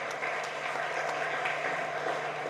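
Church audience applauding a Salesian priest, Father Vincent, in thanks, with soft, steady clapping from a crowd heard at a distance and no voices over it.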